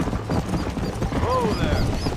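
Horse hooves clip-clop at a steady, moderate pace while riding in Red Dead Redemption, with a brief neigh-like tone partway through and low background game ambience.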